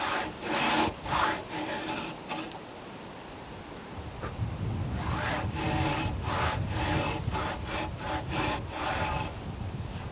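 A hand crosscut saw cuts the shoulder of a tenon in timber, a few short strokes followed by a pause and then a fast run of rhythmic rasping strokes, close and clear with no talk.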